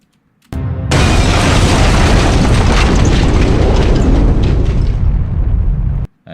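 A loud explosion sound effect for fire in space bursts in abruptly, holding a dense, sustained roaring rumble for about five seconds before cutting off sharply.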